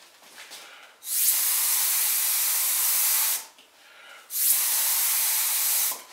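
A spray gun puts wood ash glaze onto pottery in two long bursts of loud, steady hissing, each lasting about two seconds, separated by a short quiet gap with faint handling noises.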